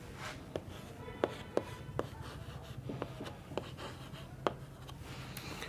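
Chalk or marker strokes on a board during a chemistry lecture, a steady scratchy rubbing broken by sharp taps and ticks as characters are written, close and moderately loud, no speech.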